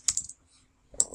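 Typing on a computer keyboard while writing an email in Mailchimp: a short burst of several quick keystrokes, a brief pause, then another burst of clicks, close and fairly quiet.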